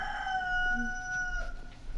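A rooster crows faintly in the distance, a drawn-out tonal call over quiet outdoor background noise.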